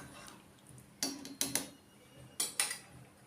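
A lid set onto a cooking pot of rice and green gram, a few light metallic clinks and taps in two quick pairs over quiet kitchen background.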